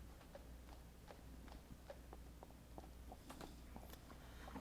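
Horse hooves clop on the ground of a Western-themed Second Life sim near a river crossing, a scattered series of faint, moderately distant knocks over a steady low background hum.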